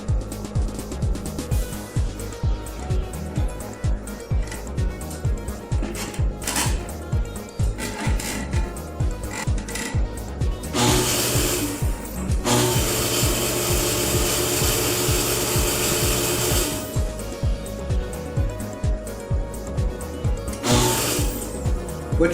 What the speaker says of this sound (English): is you hear this pump cycling on and off